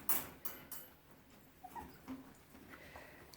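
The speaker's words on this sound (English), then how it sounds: "there's our little red puppy" A red Cairn Terrier puppy whimpers in a few faint, high, short yips and whines scattered over quiet room noise, with no talking.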